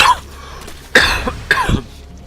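Three harsh coughs spaced apart, the first brief and the next two louder and fuller, close to the ear with no talking.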